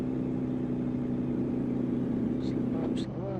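A Kenworth W900 logging truck engine labouring under throttle in American Truck Simulator on an Alaska highway, a steady loud droning hum held throughout, with brief brighter sounds near the end.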